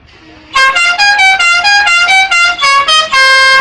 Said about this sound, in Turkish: kornaya bas